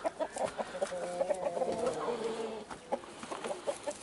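Roosters in their run cluck and call in quick, uneven bursts, close and fairly clear, with several birds overlapping.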